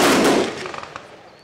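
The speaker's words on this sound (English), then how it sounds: "Honor Guard will now demonstrate a rifle-fired 21 gun salute" A rifle-fired 21-gun salute by an honor guard at an outdoor Veterans Day ceremony: one loud, sharp volley crack that rings out and decays over about a second, with no talk.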